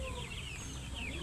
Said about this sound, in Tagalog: Ito yung madami yung mga sisiw.